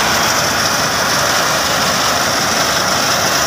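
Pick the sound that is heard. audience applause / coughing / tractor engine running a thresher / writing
tractor engine running a thresher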